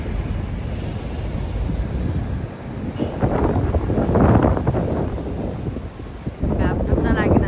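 Strong wind buffets the microphone on a hilltop in Nepal, a steady roaring rush that swells and gusts louder in bursts, with occasional speech faintly underneath.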